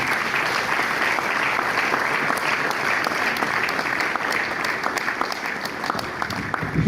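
Audience applause fills a lecture hall at an annual pharmacy lecture series in Nigeria, steady, dense clapping from a large crowd throughout, loud and continuous.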